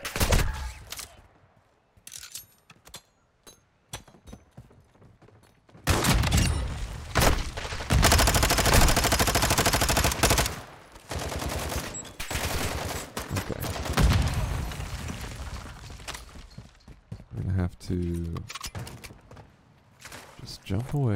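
Gunfire in the video game DMZ, rapid bursts and single shots crackling near and loud over a long stretch, with pauses between volleys and a player talking excitedly at times.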